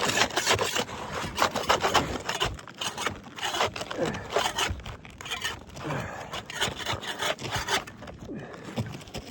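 Sealant being scraped off wooden decking, a continuous rough rubbing and scraping in repeated strokes with short pauses, close and fairly loud with no talking.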